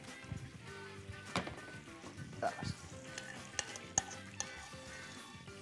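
Minced meat sizzles and fries in a pan while being stirred, with steady crackling broken by scraping and clinks of a utensil against cookware, fairly quiet and close.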